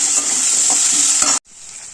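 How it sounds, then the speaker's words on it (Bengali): Potatoes frying in a pan give a loud, steady sizzle with stirring scrapes, then the sizzle cuts off sharply and returns fainter. "আলুটা ভেজে দেবো আমি, আলুটা ভেজে নিই"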